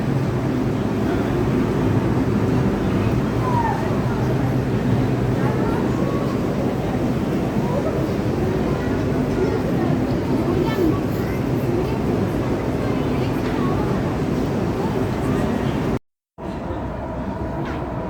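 A steady, loud rumble of a metro train running past above ground, continuous low-frequency roar with faint voices mixed in, cutting off abruptly near the end.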